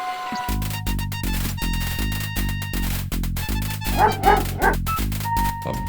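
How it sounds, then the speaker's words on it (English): A dog in the video game King's Quest V barks in a few short bursts while digging at a large anthill, heard over steady, rhythmic game music. "A bully of a dog terrorizes the poor ants as he playfully digs at their large anthill."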